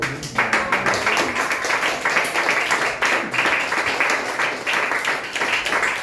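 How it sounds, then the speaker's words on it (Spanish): A church congregation at a sermon claps in a quick, steady rhythm, the many hands forming a bright, continuous patter that carries on for several seconds without a pause. "Denle un fuerte aplauso a Cristo"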